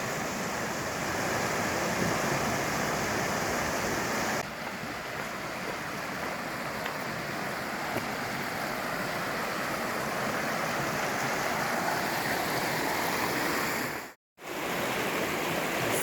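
Rock Creek on the Pacific Crest Trail rushes steadily nearby, a loud, even hiss of flowing water that cuts out briefly near the end.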